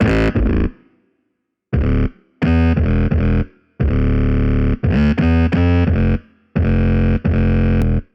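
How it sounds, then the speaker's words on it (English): Heavily distorted, saturated 808 bass hits in short rhythmic bursts, loud and gritty, with brief silent gaps between phrases. "Anything that's going to add saturation, distortion."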